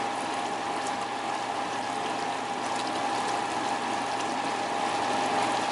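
Chocolate fudge mixture boils in a pot on the stove as it nears 234 degrees, giving a steady, faint bubbling hiss with a soft hum underneath and no talking.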